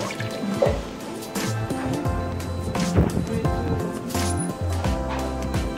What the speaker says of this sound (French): je fais revenir ces épices là à l'intérieur et je laisse bouillir